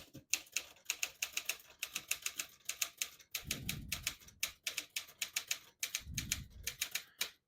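A 1951 Smith-Corona Silent portable typewriter being typed on, rapid bursts of crisp key strikes in an even rhythm, twice interrupted by a deeper ratcheting carriage return, close and clear.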